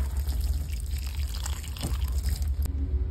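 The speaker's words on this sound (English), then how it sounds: "The last thing I need to do is water." Water poured onto a potted rosemary cutting, a close, continuous trickling and splashing with a low hum beneath.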